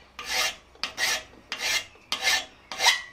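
A hand file cuts a 1/8 inch, roughly 45 degree bevel on a steel convex butcher chasing tool, giving five even, close rasping strokes in a steady back-and-forth rhythm with short gaps between.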